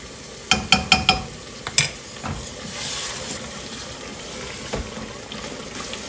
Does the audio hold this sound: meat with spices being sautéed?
yes